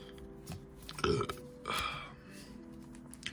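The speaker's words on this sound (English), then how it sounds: "Excuse my burping." A man burps quietly at close range during a Pokémon card box opening, a couple of short low belches over faint room noise.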